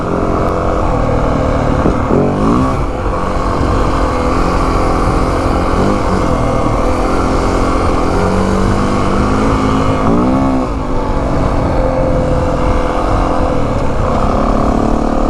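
Yamaha WR450F dirt bike engine revving hard while being ridden, loud and close, rising and falling through the gears with continuous throttle blips and no talk.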